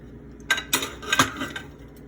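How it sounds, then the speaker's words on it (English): Spoon clinking against a pan while stirring Marry Me Pasta sauce: a few light, irregular metallic taps and scrapes, close and fairly quiet, with no talking. "then we're going to give this a nice little stir"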